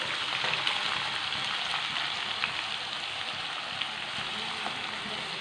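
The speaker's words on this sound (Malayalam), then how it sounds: "അപ്പോൾ നമ്മളിവിടെ ചതച്ച് വെച്ച ഉള്ളിയും പച്ചമുളകും ഇഞ്ചി വെളുത്തുള്ളിയൊക്കെ ചതച്ചത് ഇവിടെ ഇതിലേക്ക് ചേർത്ത് കൊടുക്കാം." Crushed shallots, green chili, ginger and garlic sizzle in hot coconut oil, a steady close hiss with faint crackles running evenly throughout, without talking.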